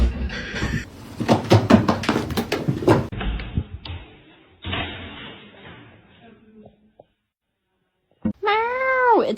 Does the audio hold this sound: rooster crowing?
no